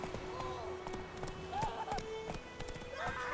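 Horse hooves clip-clop at a steady trot in The Witcher 3, with a whinny rising briefly midway, set against a low game ambience that carries a faint voice.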